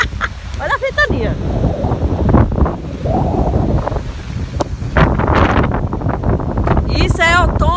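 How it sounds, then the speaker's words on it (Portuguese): Strong autumn wind buffets the microphone outdoors, a continuous loud roaring rush with gusts swelling and easing throughout, while a person talks briefly partway through. "Olha a ventania."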